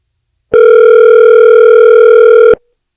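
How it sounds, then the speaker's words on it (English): A single loud, steady electronic telephone tone that sounds for about two seconds and then stops abruptly, close and alone with no talk. "Phone ringing is too loud."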